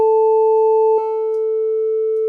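A steady synthesizer oscillator tone from the Mynth app, simulating a sub-VCO, holds a pure pitch with faint overtones, its timbre shifting slightly midway with a small click, continuous and alone.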